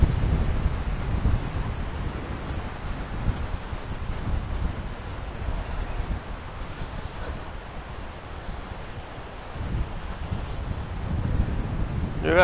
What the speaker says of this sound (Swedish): Fast det blåser.